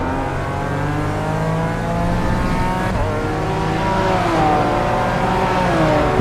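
A BMW race car in the iRacing BMW M Power Tour screams at high revs, loud and continuous, with the engine pitch rising and falling through gear changes on the straight and into a corner.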